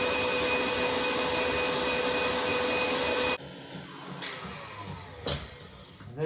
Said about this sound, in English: Clean the bowl very well, the whisk, the mixer, and whisk the egg white to make a meringue.